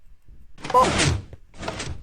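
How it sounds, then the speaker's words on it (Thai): Door opening in the Minecraft video game, two quick, close wooden thunks in a row, alone with no talk over them. "เปิดประตู"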